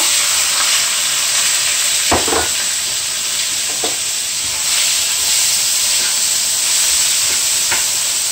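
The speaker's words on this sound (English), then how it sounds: "So I'm going to add my mushrooms now." Mushrooms sizzle loudly in hot sesame oil in a stir-fry pan, a constant near hiss with a few sharp clatters as they are stirred.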